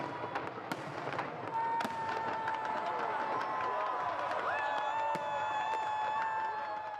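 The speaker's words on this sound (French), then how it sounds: "Minuit 30, ça y est, les feux d'artifice explosent." A dense crackle of distant New Year's fireworks over Abidjan bursts with sharp pops, under a crowd's murmur and shouts and some whistling tones.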